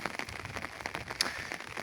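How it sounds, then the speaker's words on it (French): Steady rain during a heavy Mediterranean-style rainy spell makes a faint, continuous patter of drops on surfaces, with soft irregular ticks through a quiet, even hiss. "Depuis 14 h, il ne pleut non-stop."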